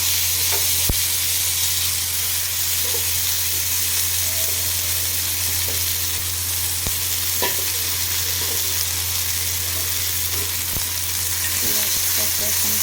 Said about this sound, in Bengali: এর জন্য একটু পেঁয়াজ ভেজে নিই এখন।